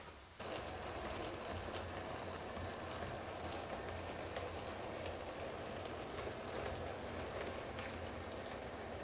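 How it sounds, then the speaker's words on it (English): A model train pulls into a station, rolling steadily with a soft continuous rumble and faint rhythmic clicking of wheels on track, running without pause. "let's pull a train in there"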